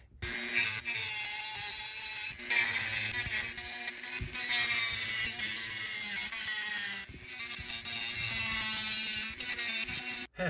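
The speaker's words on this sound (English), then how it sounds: "I'm just gonna use a Dremel with a little cutoff wheel here and be careful on this thing so I don't melt through the plastic" Dremel rotary tool with a small cutoff wheel grinding through plastic tips during a Porsche heated-seat installation, a continuous high-pitched whine with two brief pauses, close and loud, no talk.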